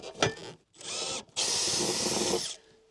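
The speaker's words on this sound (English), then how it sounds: "That's how you drill a hole." A power drill whirs in two bursts close by during a mini split install, the second long and steady as it bores a hole, with brief pauses between.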